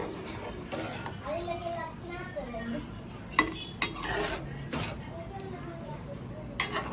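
A spoon scrapes and clinks against a pot while food is stirred carefully, with several sharp metallic knocks beneath a woman's speech and a voice nearby.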